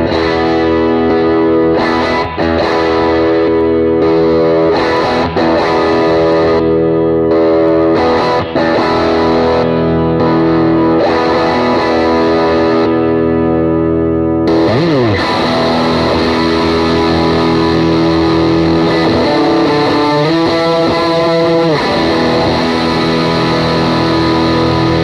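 Electric guitar played through stacked King of Tone, Dualist and Scarab overdrive pedals on a worship pedalboard: sustained, thick driven chords ringing continuously, turning brighter and grittier partway through as another drive is engaged, with slides near the end.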